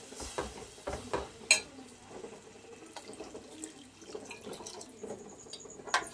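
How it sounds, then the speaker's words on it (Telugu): Water running into a cooking pan for an onion and boiled egg curry, a soft steady trickle with drips and occasional knocks of the pot, close and fairly quiet. "డైరెక్ట్ గా వాటర్ పోస్తున్నాను"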